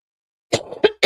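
Three quick, harsh coughs close up after a moment of silence, with no talking.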